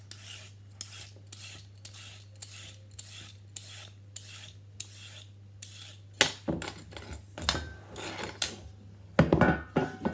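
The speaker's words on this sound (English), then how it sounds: "So my next vegetable I'm going to use is a carrot. It's going to need peeling," A peeler scrapes a carrot in steady, evenly spaced strokes, each a short rasp with brief pauses between, and the scraping turns faster and more irregular toward the end over a faint low hum.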